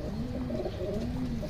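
A breeder pigeon coos in a low, throaty, rolling call that repeats in a few close, steady phrases, near and clear with no talk over it.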